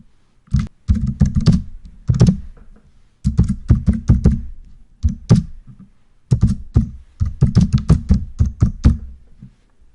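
Fingers type rapidly on a computer keyboard, entering a report title in bursts of quick, close keystrokes separated by short pauses.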